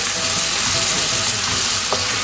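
Tomatoes and onions fry loudly and continuously in a pan for a Rayalaseema country chicken curry. The close, dense hiss and crackle stays even throughout, with faint stirring scrapes.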